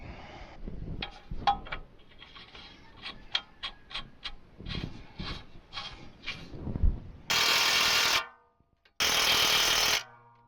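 Axle nuts tightened with a hand ratchet during an axle replacement on a 2012 Chevy Equinox, a quick run of close, crisp clicking bursts, followed by two long steady bursts of loud mechanical noise.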